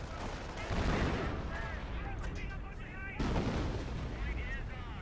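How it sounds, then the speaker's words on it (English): Artillery fire in the Company of Heroes strategy video game: a continuous rumble of heavy booms and scattered gunfire at moderate volume, with two louder blasts standing out. "Oh, we're seeing artillery now."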